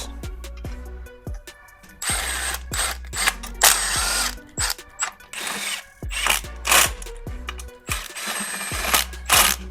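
Power tool driving new hardware into the front fairing stay of a crash-damaged BMW S1000RR, with bursts of whirring and ratcheting mechanism noise separated by short pauses and clicks, close and fairly loud, no talking.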